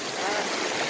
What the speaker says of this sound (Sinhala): වතුර පාර ටිකක් නෙවෙයි සෑහෙන සැරයි